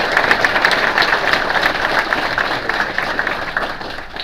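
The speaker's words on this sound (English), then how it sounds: "And we applaud you, sir." An audience applauds the mayor at a public event in Salamanca with the governor visiting: loud, sustained crowd clapping, a dense continuous patter that eases slightly toward the end, with no speech over it.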